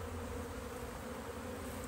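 Honeybees buzz in a steady, faint drone during a package bee installation, a continuous swarm hum with no talking.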